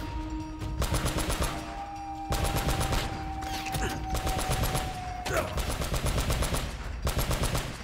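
A mounted turret machine gun fires in the video game Uncharted: Drake's Fortune, loud, rapid automatic bursts that rattle on for about a second or two each, separated by short gaps, with game sound effects underneath.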